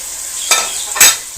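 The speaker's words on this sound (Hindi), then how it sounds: "तो ये अब हम पहले प्याज डालेंगे" Onions for chicken korma go into a hot frying pan, giving two quick, loud sizzling bursts over a steady background of frying, with no talk heard.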